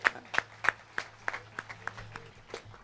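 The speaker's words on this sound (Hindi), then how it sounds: "एक बार इन सब बच्चों के लिए तालियां बजाइए." Scattered, fairly faint clapping from a small group at a temple gathering in Melbourne, applauding children after a breathing exercise, with sharp individual claps spaced unevenly and a low hum underneath.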